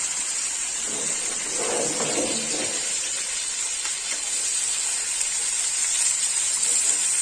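Chicken pieces fry in a pan for Afghani chicken gravy, giving a continuous close sizzling hiss that holds steady throughout with no talking.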